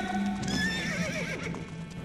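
Horses neigh and whinny loudly as an army comes to a halt, several shrill overlapping calls close by with faint hoof clops beneath.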